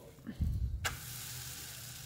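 Bread veg omelette roasting in a pan with melted butter: a brief clatter of handling, then a steady close sizzling hiss that carries on alone to the end.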